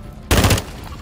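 A single loud, close shotgun blast in a video game bursts out suddenly and holds for a short roar before cutting off.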